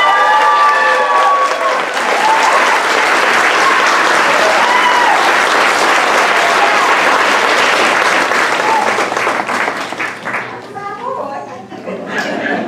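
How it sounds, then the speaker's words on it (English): A high school graduation audience at Cross Creek School bursts into loud, sustained applause that fills the hall steadily and fades slightly near the end, with scattered voices and whoops mixed into the crowd noise. "Please give a round of applause to Mr."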